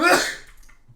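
One short, sharp human sneeze, loud and close, bursting out and fading within a second with no talk over it.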